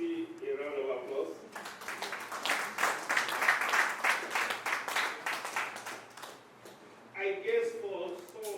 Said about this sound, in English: please let's give Professor Susi a round of applause